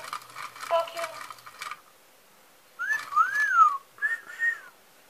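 A talking parrot whistles clear rising and falling tonal phrases in two bursts, close and fairly loud, after a short stretch of clattering kitchen-like noise.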